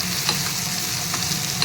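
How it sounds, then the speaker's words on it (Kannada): Ginger-garlic paste and whole spices frying in oil on a low flame, a steady close sizzle with faint stirring scrapes and small pops scattered through. "ಹಾಕಿ ಸ್ವಲ್ಪ ಬೆಳ್ಳುಳ್ಳಿದು ಶುಂಠಿ ಹಸಿ ವಾಸನೆ ಬರೋ ತನಕ ಲೋ ಫ್ಲೇಮಲ್ಲಿ ಫ್ರೈ ಮಾಡ್ಕೊಂಬಿಡೋಣ"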